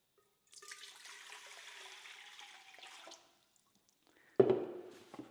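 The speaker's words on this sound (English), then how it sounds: "what we need to do is just pop our water straight into the bowl" Water pours into the bowl of an Ooni Halo Pro spiral bread mixer for wholemeal bread dough, a soft splashing stream lasting about two and a half seconds, followed by a brief louder splash or clunk.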